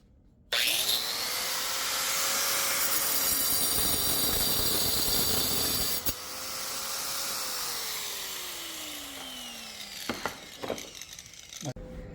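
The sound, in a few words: grinder with diamond multi-purpose saw blade cutting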